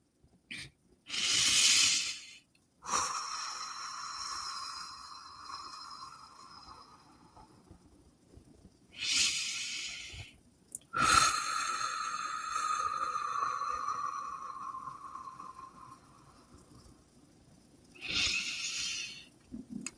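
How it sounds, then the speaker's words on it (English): Slow, deep breaths with long airy inhales and exhales, separated by quiet pauses, heard close and soft in a calm meditation setting. "Deep breathing here if you would like."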